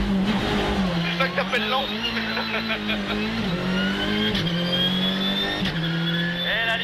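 Rally car sliding through a final corner to the finish at the Rallye du Var, a loud sustained engine note rising and dipping with gear changes, heard from inside the car while people talk over it.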